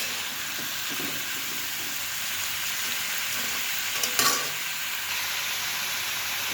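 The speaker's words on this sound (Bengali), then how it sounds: "এই সবজিগুলো ভালো করে কষিয়ে ভাজা ভাজা হবে" Chopped vegetables frying in a pan with fried mung dal, a steady close sizzle and hiss throughout, with a brief clatter of stirring near the end.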